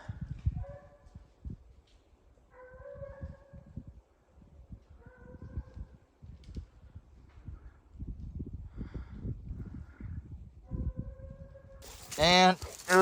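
A dog, named Cowboy, barks at a deer outdoors: scattered short barks and yips through the stretch, with a louder burst near the end, over rustling and movement.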